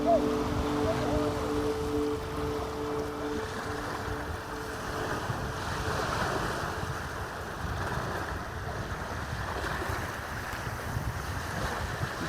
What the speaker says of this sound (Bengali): ঢেউয়ের আওয়াজ শুনতে পাচ্ছ?